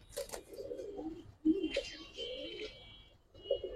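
Giribaz pigeons kept for sale give several low, soft coos in short bursts at close range, with a faint chirp at the start.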